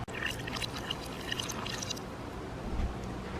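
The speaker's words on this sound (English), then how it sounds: "This drip method definitely takes a while, but it produces such a good cup of coffee." Water pours steadily through a drip coffee maker, a continuous close splashing trickle with light gurgling that holds at an even level throughout.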